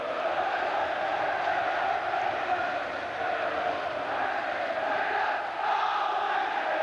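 Football crowd at a Sheffield Wednesday v Oldham Athletic match, a steady, dense roar of many voices cheering and shouting across the stands, holding at an even level throughout.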